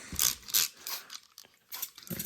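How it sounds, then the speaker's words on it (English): Several quick, hissing spritzes from a spray bottle come in short bursts, with brief pauses between pumps. "Spray right in those holes that we made, just to keep that seed just wet enough."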